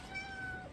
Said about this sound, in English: Here is my new stray cat.